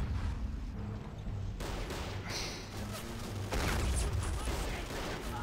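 Heavy gunfire and artillery crashes in the war strategy game Men of War: Assault Squad, a dense continuous barrage of shots and booms that stays loud throughout with several heavier bursts.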